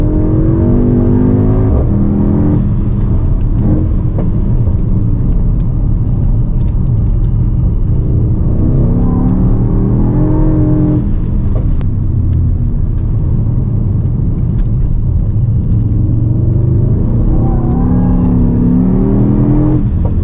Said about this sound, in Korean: 인스트럭터 분들이 직접 운전하시면서 드리프트 주행을 보여주시는데